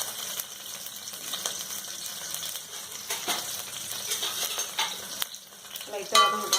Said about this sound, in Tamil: லைட்டாக வதங்கலாம்.